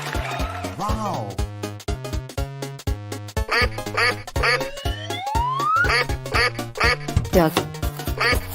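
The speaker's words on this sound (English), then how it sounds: "Duck." Cartoon-style duck quacks pop up among bouncy music and sound effects in a children's animal transformation piece, with a voice talking over the busy mix.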